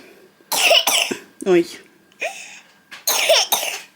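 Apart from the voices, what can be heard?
10-month-old baby coughing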